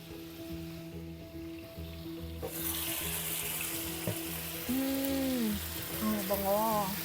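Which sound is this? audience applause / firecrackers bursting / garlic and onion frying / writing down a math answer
garlic and onion frying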